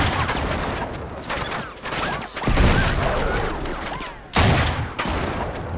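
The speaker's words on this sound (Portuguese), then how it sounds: "Não acerto os tiros que já vais ver." Rapid bursts of gunfire in Uncharted 3: Drake's Deception crackle in close, dense volleys with brief pauses between them, one sharp louder burst near the end.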